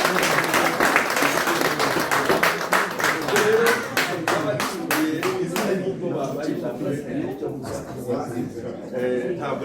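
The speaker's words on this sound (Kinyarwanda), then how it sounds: "abagabo mubahe amashyi" Crowd applause at a gathering in Belgium, loud dense clapping that gradually thins into scattered claps, with voices talking underneath.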